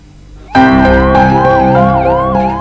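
A line of ambulances waiting during an oxygen emergency, sirens bursting in loud and close after a brief quiet start, their rising and falling wails layered and overlapping steadily to the end.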